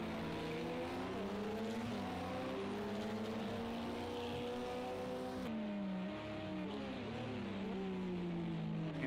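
GT3 race cars accelerating at Daytona in Project Cars 2, steady engine whine rising and falling through gear changes, several cars layered close together, no talk.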